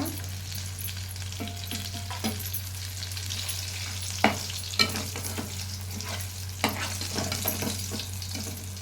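Small gullibindalu fish frying in hot oil in Vizag, a continuous soft crackling sizzle with a few distinct clinks and scrapes of a utensil scattered across the stretch, no one speaking.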